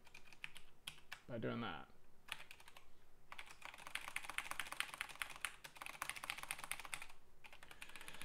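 Rapid clatter of keys on a computer keyboard while programming a PNG decoder, close and steady for most of the stretch, with someone speaking briefly near the start.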